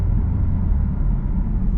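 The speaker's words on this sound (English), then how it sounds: "boy, does this car sound fantastic" A 2022 Chevrolet Camaro ZL1 fitted with an MBRP cat-back exhaust gives off a deep, steady low rumble that is close and fairly loud through the whole short stretch, with no voices.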